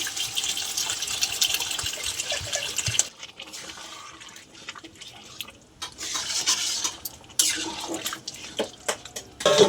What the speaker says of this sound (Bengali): আমরা হালকা করে জল দিয়ে দেবো, জল দিয়ে দিচ্ছি